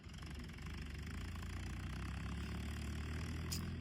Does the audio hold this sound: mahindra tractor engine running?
yes